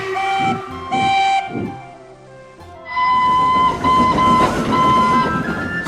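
A freight train on a railway sounds two short whistle toots, then a longer whistle blast over rumbling, clanking rail noise, near and fairly loud, with no voices.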